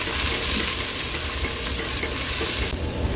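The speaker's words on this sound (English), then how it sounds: "we're gonna give this a good stir" Garlic being stirred in a hot frying pot for Puerto Rican pollo en fricasé, a steady loud sizzle with scraping stir sounds, close and continuous.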